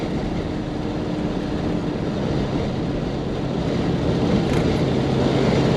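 A Chevrolet El Camino with a 12-inch clutch drives along, its engine running in a steady, loud, continuous roar with road and wind noise, no talk over it.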